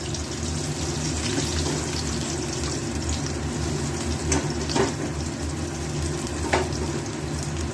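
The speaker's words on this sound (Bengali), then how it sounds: "ওই তেলের মধ্যেই দিয়ে দেবো পেঁয়াজগুলো একটু ভালো করে ভেজে নেব" Onions frying in hot oil in a home kitchen, a steady broadband sizzle that runs continuously throughout at moderate level, with a few faint clinks and stirring sounds and no one speaking.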